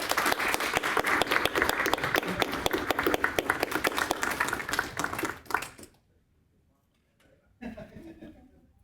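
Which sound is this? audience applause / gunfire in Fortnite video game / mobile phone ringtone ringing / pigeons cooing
audience applause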